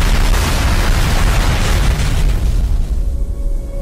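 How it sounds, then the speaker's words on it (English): A loud, rumbling explosion in an animated episode, a deep, roaring blast that sustains for a few seconds and then thins out into a fading hiss. "Explosion."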